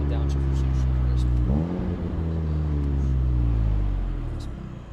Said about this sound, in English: I love the DSG transmission, the downshift reception crisp